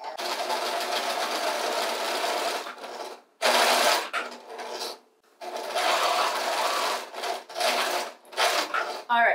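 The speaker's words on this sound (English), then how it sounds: "I'm going to show you guys a little hack for turning corners very nicely on the sewing machine" A sewing machine stitches curtain fabric in long, fast, even bursts. It stops briefly twice, then runs again and ends in shorter start-stop runs, all close and loud.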